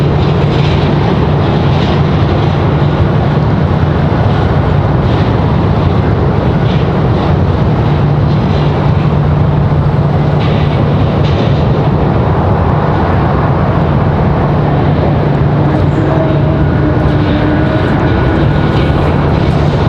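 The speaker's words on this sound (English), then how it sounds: "This one a big one. Looks like a Gulfstream." Large Gulfstream business jet landing at Raleigh-Durham International Airport, a loud steady engine roar with a low hum holding for the full stretch, heard up close with wind buffeting the microphone and no talking.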